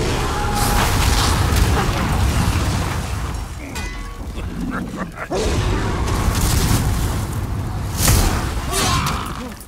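A fire spell blasts in the video game Demon's Souls with loud booming bursts and rushing whooshes, several impacts rising and falling over a dense rumbling background.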